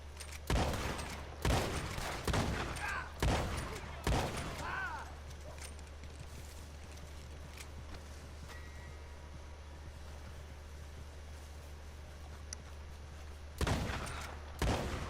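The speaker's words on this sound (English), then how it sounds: "I was taking a couple of pot shots at this guy" Video game gunfire: a quick string of sharp, loud shots in the opening seconds, a long quieter stretch of ambience, then two more shots near the end.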